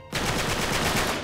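Rapid automatic gunfire from the video game Uncharted 3 bursts in after a brief quiet start and keeps up a dense, loud, rattling stream of shots with no talk over it.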